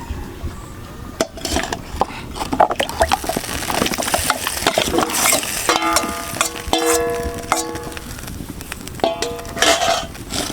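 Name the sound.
washed taro (man kochu) added to water in a wok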